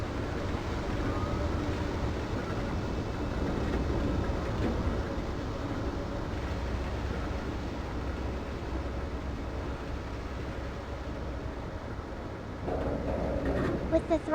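A train accelerating under 60% throttle on a hill climb in a train simulator video game, a steady low rumbling drone that holds for the whole stretch.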